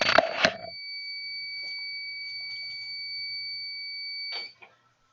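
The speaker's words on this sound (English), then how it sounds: "That sound is the sound of the heat press being done" A heat press sounds its finished alarm with a single long steady electronic tone lasting about four seconds, loud and close, after a burst of handling clatter.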